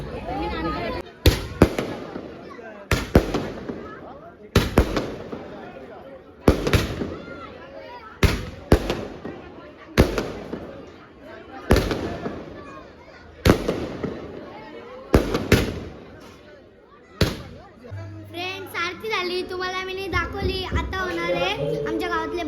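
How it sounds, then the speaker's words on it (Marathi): Firecrackers and fireworks burst at a family village celebration, a dozen sharp loud cracks spaced irregularly over about seventeen seconds, some in quick doubles, followed by children's voices and chatter as the bangs stop. "परिवार तर्फे फटाक्यांची भाजी होती बघा तुम्ही"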